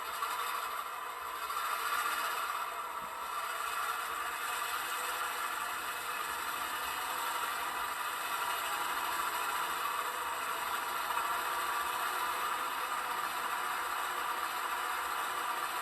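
An Athearn Genesis GP38-2 model locomotive in BNSF livery runs its sound-decoder diesel at notch 8, a steady, dense, hissing roar that holds constant throughout at moderate volume, with no talk.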